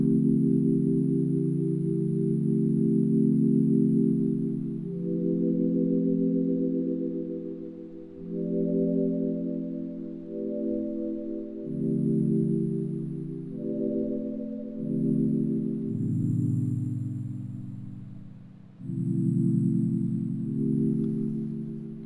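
A smooth, warm synth pad preset from the Electra X synthesizer sustains slow, overlapping chords that shift every few seconds, soft and continuous with an airy high shimmer and no voices.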